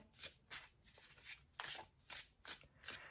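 Tarot cards are shuffled in a quiet room, a series of crisp riffling bursts in a steady rhythm, close and soft.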